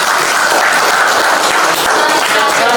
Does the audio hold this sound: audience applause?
yes